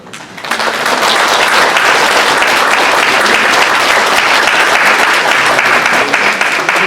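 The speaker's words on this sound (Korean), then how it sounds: "우리 큰 감사와 격려의 박수 잠깐 드리면 좋겠습니다." A church congregation, standing, gives a long, loud, steady round of applause that starts abruptly and holds evenly with no talking over it.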